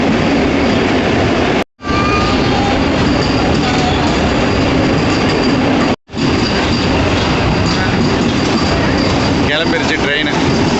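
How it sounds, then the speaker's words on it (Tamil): A train pulls away from Madurai station, its wheels clattering and squealing in a loud, continuous rumble heard from on board, broken by two brief dropouts, with people talking over it. "கிளம்பிடுச்சு பாருங்கள் வண்டி."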